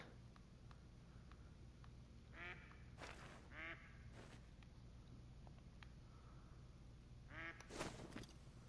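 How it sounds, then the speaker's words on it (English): Ducks quacking in theHunter: Call of the Wild on Askiy Ridge, a few clusters of nasal quacks heard at a moderate distance over steady outdoor ambience, with no speech. "I don't know where the ducks are, but I hear them quacking."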